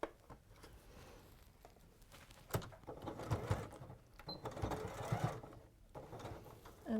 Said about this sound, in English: all you're going to do is sew along from the tip of the nose down to the base of the neck